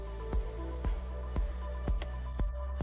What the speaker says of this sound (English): And I start pouring the soapy water over the entire surface of our dress.